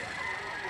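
Roosters and hens at a poultry market in Lipa, Batangas make a brief, steady crowing-clucking sound against busy market noise, fairly close.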